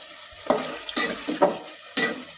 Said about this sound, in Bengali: পরিমাণ মতো হলুদ গুঁড়ো, মরিচ গুঁড়ো, লবণ দিয়ে মশলাটাকে কষাই নিলাম।